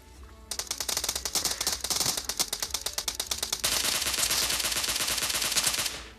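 Rapid gunfire in PUBG Mobile, M24 rifle shots among a fast rattling stream of close, sharp reports, first in distinct bursts and then merging into a dense continuous volley, loud with no talk.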